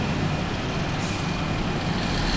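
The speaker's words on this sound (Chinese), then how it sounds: "好像只有车子的声音" Heavy road traffic rumbles continuously nearby, dominated by a truck's broad engine roar with a brief airy hiss partway through, steady and fairly loud with no voices.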